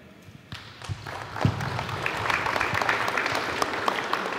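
Applause breaks out at a community meeting about a wildfire, starting with a few scattered claps and swelling into steady clapping from the gathered audience.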